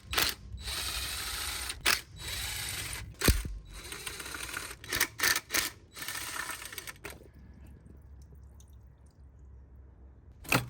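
A hand ratchet works loose the fuel rail bolts on a BMW M50 engine, with short bursts of close clicking and metal clatter separated by pauses, then near quiet at the end.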